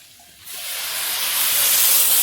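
Water poured into a hot pan of fried crabs bursts into a loud, steady hiss of sizzling steam that swells and holds close up.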